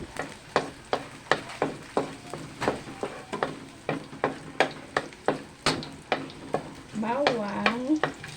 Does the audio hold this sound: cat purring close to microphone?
no